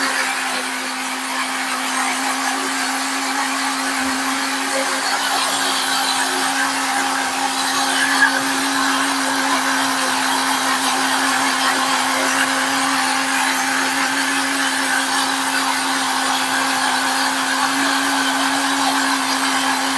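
Kitchen blender whirring continuously at high speed while blending an oat smoothie, a loud steady motor whine with a constant hum and no pauses.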